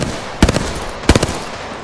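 Two short bursts of rapid automatic gunfire in the video game Apex Legends, each a quick cluster of sharp cracks, with a pause between them.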